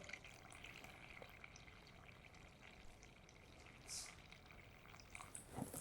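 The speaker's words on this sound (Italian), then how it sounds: "Andiamo a mettere l'acqua" Water being poured into flour for a Roman-style pizza biga dough, a soft continuous trickling splash at close range in a quiet kitchen, with a few small clinks near the end.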